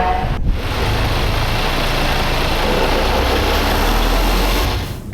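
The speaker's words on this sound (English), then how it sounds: "Okay, setting off in the Actros L." A Mercedes Actros L truck with a 630-horsepower engine pulls away, its deep diesel drone steady and loud throughout before easing off at the very end.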